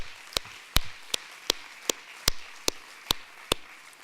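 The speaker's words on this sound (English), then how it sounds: "So I will ask for a round of applause for the student ambassadors." A single person clapping slowly at a conference in honor of student ambassadors, about nine sharp, evenly spaced claps, close and isolated against a quiet room, with no voices.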